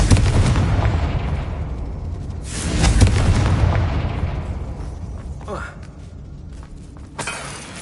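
A Confringo fire spell exploding in the video game Hogwarts Legacy gives a heavy booming burst with crackling debris. It is followed by further softer impacts, and a voice calls out over the blasts.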